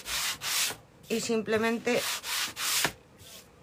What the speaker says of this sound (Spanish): una vez seco, cogemos una lija. Esta está muy desgastada